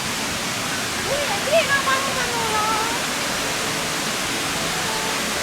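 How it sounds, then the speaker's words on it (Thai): A waterfall on a field trip in Satun province, Thailand, sends up a dense, steady rush of falling water, with faint voices in the background. "อ่าฝั่งนู้นจะเป็นน้ำตก"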